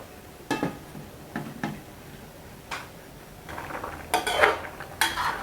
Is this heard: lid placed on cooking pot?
yes